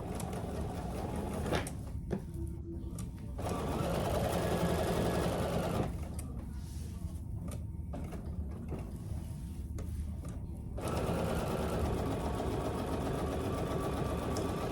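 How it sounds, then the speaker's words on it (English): A sewing machine quilts the top of a fabric oven mitt, running in loud steady whirring bursts with short pauses between stitching runs, close and without talk. "And then I'll do my quilting on the top."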